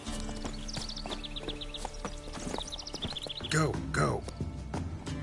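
Roach the horse in The Witcher 3 game, rhythmic clip-clop hoofbeats on the ground, with someone speaking over them and a short whinny-like burst later.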